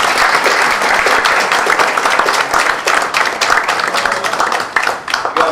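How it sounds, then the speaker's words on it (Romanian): A crowd at a poetry festival in a county library in Bacău applauds with dense, steady clapping that carries on for several seconds before thinning slightly at the end. "vă rog să-i aplaudăm Ioana Nicolae și Mircea Cărbărescu."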